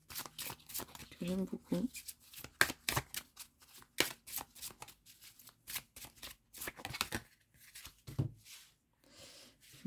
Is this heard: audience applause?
no